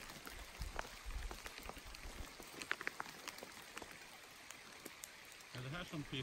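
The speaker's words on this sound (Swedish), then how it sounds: "Ett naturfenomen, regn kallas det." Rain falls outdoors by a river, pattering in scattered drops on nearby surfaces as a soft steady hiss, quiet and close, with a brief burst of talking near the end.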